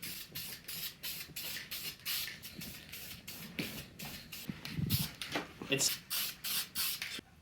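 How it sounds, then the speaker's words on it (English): Short hissing bursts of an aerosol can spraying tinted clear coat in repeated passes, with quiet shuffling and handling noises in between. "I'm going to spray this tinted clear on"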